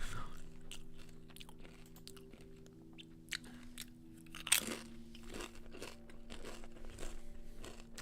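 Someone crunches on chips close to a microphone, with bites and crinkling of a bag scattered over a steady electrical hum, no speech heard.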